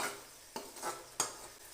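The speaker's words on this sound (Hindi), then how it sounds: "इसे डालकर उसको तक भूनेंगे जब तक ये मसाला हमारा अच्छी तरह भून के तैयार ना हो जाए" Masala with red chilli powder, salt and tomato frying in a pan for chickpea koftas, a faint sizzle under a few sharp spoon scrapes and clinks against the pan; no talking.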